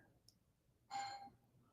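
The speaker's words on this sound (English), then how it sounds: "Wait, why is somebody ringing the doorbell?" A home doorbell gives one faint, short ring in a quiet room, heard alone with no talk.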